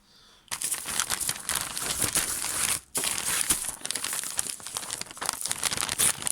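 Gift packaging wrapper is crinkled and torn open in a reborn doll kit unboxing, with continuous loud close crackling and rustling that pauses briefly midway before resuming.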